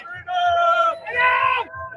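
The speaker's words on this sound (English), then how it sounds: "That's a fantastic crowd, Andy." Large outdoor Canada Day crowd on Bank Street in downtown Ottawa, a loud burst of cheering and yelling voices rising and falling in two swells, close and lively.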